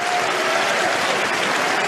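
A tennis crowd at the Australian Open breaks into a dense, steady round of applause, loud and continuous throughout, with no distinct voices standing out.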